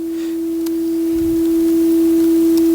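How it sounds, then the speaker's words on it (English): A synthesized sine wave generated in Haskell holds a single pure, steady pitch, swelling gradually in volume and otherwise alone. "It's just a sine wave with a volume."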